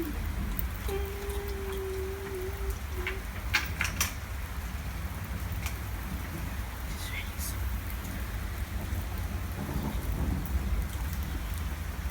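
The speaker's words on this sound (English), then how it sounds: "It's raining ice pieces." Heavy hailstorm with ice pieces pelting down in a constant dense clatter, joined by sharper scattered impacts and a low rumble of thunder underneath, with a brief tonal hum near the start.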